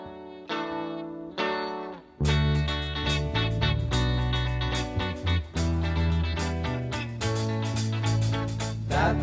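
A song plays as a full band recording with harmonized vocals and guitars, loud and continuous after a brief quieter opening.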